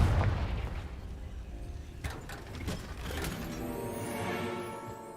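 In the game Hogwarts Legacy, the Confringo blasting spell sets off a series of deep, booming explosions with rumbling tails, loudest at the start and then trailing into quieter crackling blasts.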